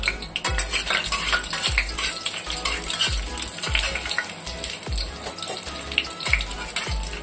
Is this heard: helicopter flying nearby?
no